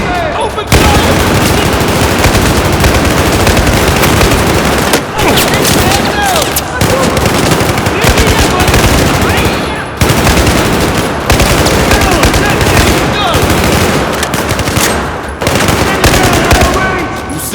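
Sustained automatic machine gun fire in a military shooter video game, loud dense bursts of rapid shots nearly continuous with brief gaps, mixed with battle noise and some voice chatter.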